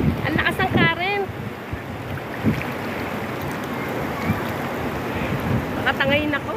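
Strong current rushing through a stream in Laguna, steady broadband water noise with wind buffeting the microphone, while voices shout and talk over it in bursts.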